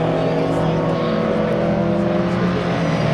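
A Mini race car with a Bill Richards-built original A-series engine, space frame and fiberglass body, roars steadily on track at high revs, a continuous buzzing engine note with someone talking over it.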